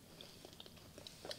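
Crunching and chewing of a crisp, crumbly salted sablé pastry, a string of small, close, quiet crackles and bites with no talking.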